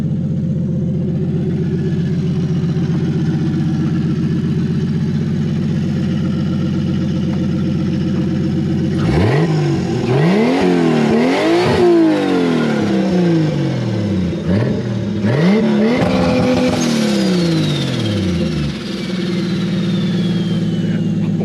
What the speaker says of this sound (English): Can you rev it up for us a couple times?